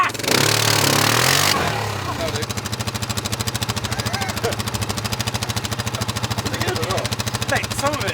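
Yamaha's new 4x4 buggy with a 100hp-plus engine, in a loud burst of acceleration and then a steady, rapidly pulsing engine drone while driving sideways, with voices talking over it.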